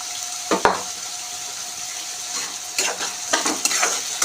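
Sliced onions and chillies sizzle in hot oil in a pan for a tomato curry, a steady close frying hiss with a couple of sharp stirring clinks and brief crackles.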